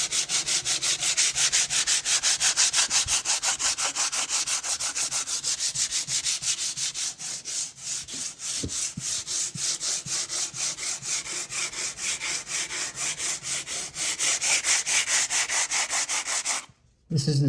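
Lacquer sanded off a window with a T20 abrasive, rapid rhythmic back-and-forth scrubbing strokes, close and loud, briefly slowing midway and stopping just before the end.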